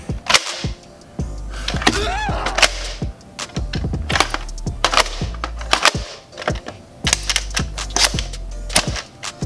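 A Nerf Mega Tri-Break blaster is primed and fired repeatedly, with a long sliding prime followed by sharp plastic clacks and snaps in an irregular, close, loud series.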